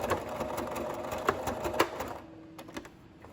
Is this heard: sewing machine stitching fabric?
yes